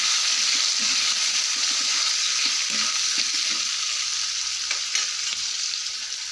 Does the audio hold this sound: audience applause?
no